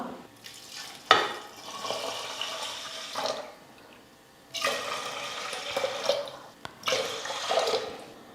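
Water pours in several bursts into a metal pressure cooker holding rice and lentils, splashing and gurgling, with short pauses between pours.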